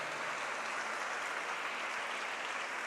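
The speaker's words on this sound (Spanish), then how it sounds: "Dele un aplauso al Señor." A church congregation claps together in sustained, even applause, a continuous wash of hands filling the room for a few seconds.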